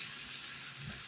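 Radish greens frying in olive oil with salt and green chillies, a soft continuous sizzle that stays steady and faint throughout, with no voices.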